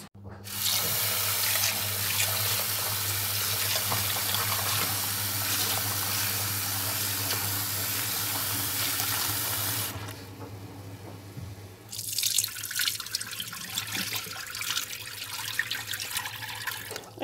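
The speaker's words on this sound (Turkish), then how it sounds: "şimdi iyice mercimeklerimizin e, nişastası gidinceye kadar, suyu berraklaşıncaya kadar 5-6 kez yıkıyoruz" Lentils being washed under a running kitchen tap for a restaurant-style soup, a loud continuous gush of water into the sink that pauses for about two seconds and then resumes with splashing and swishing, heard close.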